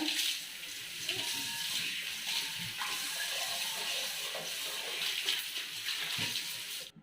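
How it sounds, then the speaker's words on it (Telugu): Water runs steadily over a nonstick pan as it is washed, a continuous hissing splash with small clinks, close and moderately loud throughout, no talking. "ఇప్పుడు దీన్ని వాటర్తో కడగాలన్నమాట"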